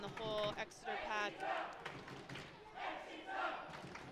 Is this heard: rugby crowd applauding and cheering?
yes